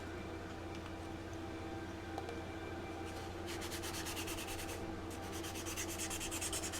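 A plastic model car body, the Aerovette, is wet sanded by hand with faint, soft rhythmic rubbing strokes that grow a little busier over a low background hum, with no talk.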